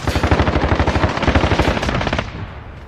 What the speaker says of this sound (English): Sentry gun on station.